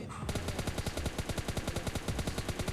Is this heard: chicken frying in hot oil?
no